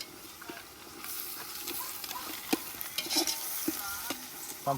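Garlic paste frying and being stirred in a pan, a close crackling sizzle with busy scraping and clinking of a spoon throughout, no speech.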